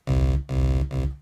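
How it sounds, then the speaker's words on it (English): Three short, loud buzzy synth bass notes from Harmor, pitched down to -2400 cents, each a gritty distorted tone about a third of a second long with brief gaps between them. "you're gonna bring it all the way down to negative 2400 cents,"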